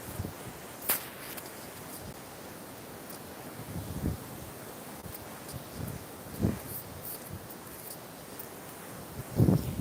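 Wind rushes softly and steadily through pine trees, with occasional louder gusts and rustles, fairly faint and without voices.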